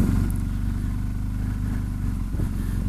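A motorcycle on Motoz Tractionator adventure tires doing slow-speed turns, its engine a steady low rumble with light clatter, close and continuous with small throttle changes throughout.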